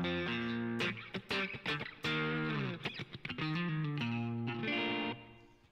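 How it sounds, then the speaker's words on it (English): Electric guitar on the middle pickup driven through a Morning Glory overdrive pedal, playing bright, twangy chords and single notes with a little bite, loud and close, with short pauses between phrases. "middle pickup position with the Morning Glory on, might be my favorite"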